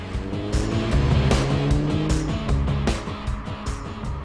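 A Volkswagen Golf GTI compact hatchback drives past at speed, its engine note steady and fairly loud throughout, with a few whooshing surges as it moves along the road.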